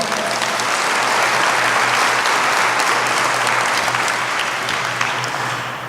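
An audience at a business round table with the Frisco mayor claps to welcome a speaker, dense, loud and continuous, holding steady for about six seconds before it starts to fade.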